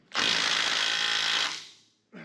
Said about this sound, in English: So let me loosen that bolt so that this will ungrip that pin and hopefully it'll start moving.